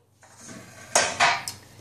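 Metal madeleine pans clatter together near the mic, a few sharp clanks and scrapes in quick succession between quieter handling noise, with no talking.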